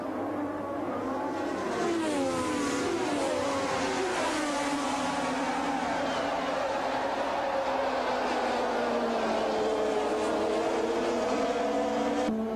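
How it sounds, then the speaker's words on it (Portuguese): Honda-engined Formula 1 race cars from the 1988 season, engines howling with rising and falling pitch as they pass, a continuous loud whine that stays steady with no voice over it. "Dá para sentir a potência dos motores Honda."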